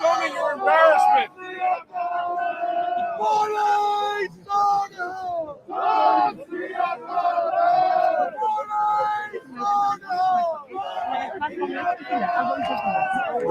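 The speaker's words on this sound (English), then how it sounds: "Big crowd behind us still." A large protest crowd at the Freedom Convoy's last stand in Ottawa shouts and chants in a continuous, loud babble of many voices close by, with surging cries rising and falling throughout.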